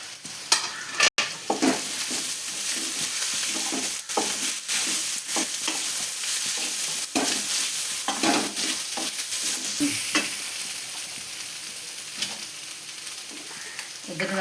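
Onion, curry leaves, ginger, garlic and grated coconut stir-fry in a pan, giving a steady sizzle broken by repeated scraping and stirring strokes, close and fairly loud throughout with no talk.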